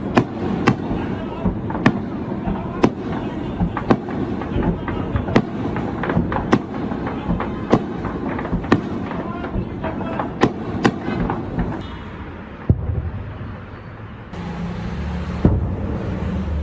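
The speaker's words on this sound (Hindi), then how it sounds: "उसमें आपको धमाके भी सुनाई देंगे" Explosions from drones being shot down over Jammu and Kashmir: a steady series of sharp, distant blasts at roughly one-second intervals over a rumbling background, with a short quieter stretch near the end.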